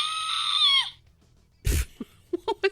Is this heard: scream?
yes